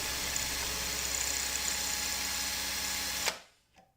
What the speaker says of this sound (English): make sure that the drill is in reverse